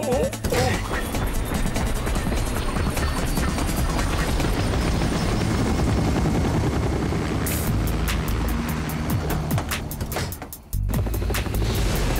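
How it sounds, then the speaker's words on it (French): A cartoon helicopter roars loudly and continuously under dramatic music and effects, its rotor chop becoming distinct toward the end after a brief dip. "Montez dans l'hélicoptère"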